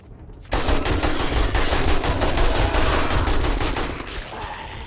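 AK rifle firing at zombies in the 7 Days to Die video game, a loud sustained burst of rapid automatic fire that starts abruptly and runs for several seconds before tailing off.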